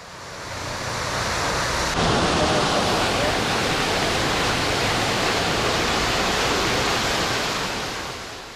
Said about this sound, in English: This monumental fountain was built in 1612 to mark the end of the Paola water aqueduct